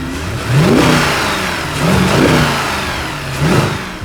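A Mercedes C63 AMG W204 V8 revs three times in quick succession, each a loud, close rising bark that peaks and falls before the next blip, with no talking.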